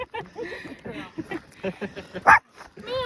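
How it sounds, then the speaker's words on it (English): A small dog gives a single sharp yip or bark near the end, while people talk close by on a hiking trail in St. John's. "We stop to pet a small dog."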